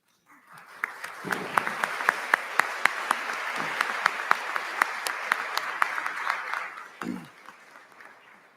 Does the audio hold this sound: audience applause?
yes